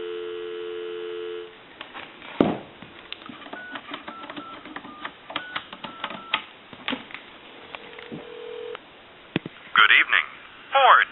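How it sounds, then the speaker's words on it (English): A repaired India wooden wall telephone gives a steady dial tone for about a second and a half, then a run of dialing clicks and a brief tone follow close up, with a recorded voice starting near the end. "Give you some dial tone."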